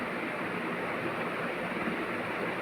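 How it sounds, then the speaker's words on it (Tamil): Steady, dense rushing bubble and hiss of salted water boiling in a pot with cauliflower, continuous and even throughout with no voices. "கொதிக்க விடுங்க."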